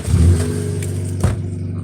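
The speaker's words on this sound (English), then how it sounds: "it's probably a good time to start up my vehicle and start getting a charge on my electronics" A vehicle engine turns over and idles with a steady low rumble, a brief louder surge near the end, close by with no talk.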